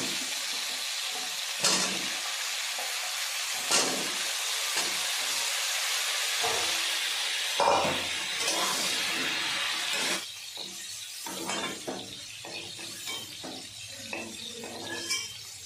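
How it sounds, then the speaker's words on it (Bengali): Cauliflower pieces fry in hot mustard oil with turmeric and salt, giving a loud, steady sizzle and hiss close by, with occasional clinks and stirring scrapes that die down toward the end. "দিয়ে দিলাম সরিষার তেল, হলুদ গুঁড়ো, লবণ এবং কেটে রাখা ফুলকপিগুলো।"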